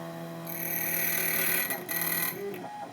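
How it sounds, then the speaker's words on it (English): An ITL 9700A key cutting machine runs at close range with a loud, steady high-pitched whine and harmonic ring that briefly dips and then settles. "When I turn on this machine, it's running right off the bat."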